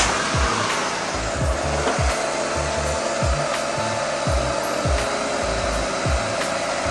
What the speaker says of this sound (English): we should be able to do a cranking test, and then we can see if the starter is okay